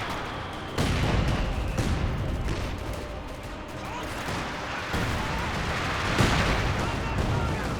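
Battle in the strategy game Company of Heroes 2, with artillery and a mortar team, rifle squads and an M15 half-track. Dense, continuous gunfire and booming impacts roll on without a break while a commentator talks over the din.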